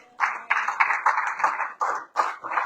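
Church congregation clapping together during a Sunday service, a rhythmic run of firm, evenly spaced claps, loud and close, with no talking over it.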